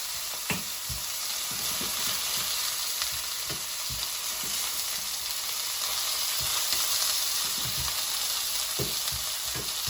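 Cucumber and garlic sizzle in a frying pan with hot spots, a continuous bright frying hiss punctuated by the knocks and scrapes of the pan being shaken and stirred.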